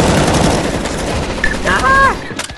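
Rapid automatic gunfire in CS:GO crackles in a dense, loud burst, with an excited voice shouting over it near the end.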